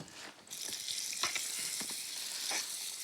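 Garlic and onion frying gently in a pan give a steady, close sizzle that starts after a brief quieter moment. A few soft spoon taps or stirs cut through the hiss. No one speaks.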